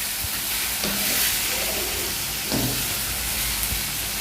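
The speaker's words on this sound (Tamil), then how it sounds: "நிறைய சிக்கன் போட்டிருக்கேன். ஸோ ஜஸ்ட் ஷாலோ ஃப்ரை மாதிரி." Chicken pieces shallow frying in oil in a pan over medium heat for a spicy Andhra-style Guntur chicken, giving a steady, close, even sizzle with a few faint stirring clicks and no talking.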